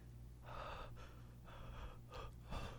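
A voice imitating heavy mouth breathing: five rough, airy breaths in a steady rhythm, close to the microphone over a faint low hum.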